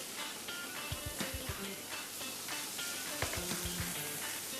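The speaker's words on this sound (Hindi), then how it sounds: "अब इसके अंदर मैं डालूंगी गार्लिक।" Garlic sizzles in hot oil in a frying pan with a steady, crackling hiss, broken by a few soft clinks and stirring taps nearby.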